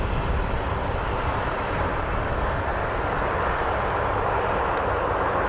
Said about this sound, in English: This is the MC-130J Commando 2